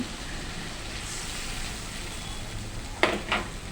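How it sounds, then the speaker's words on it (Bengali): Masala spices fry in a pan with a soft, steady sizzle running under a faint background hum, broken near the end by two short clinks of a utensil against the pan. "আমি এইভাবে করতে আসি মশলাটা কষিয়ে নিই যতক্ষণ"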